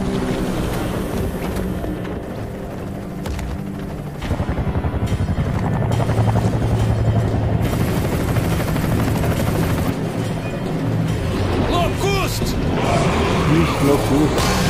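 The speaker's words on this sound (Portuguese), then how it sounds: "É o helicóptero chegando." A helicopter arrives in the video game Gears of War, its rotor thrum low and steady under game music and effects, with a voice talking over it.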